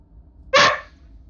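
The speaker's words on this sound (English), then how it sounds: "Stop barking." A puppy gives a single sharp, high bark close to the microphone over a quiet room background.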